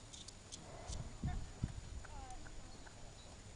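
Horse hooves clip-clopping on the lunge during a polework exercise, with a few soft thuds in uneven rhythm, fairly faint and at a moderate distance, with quiet talking in the background.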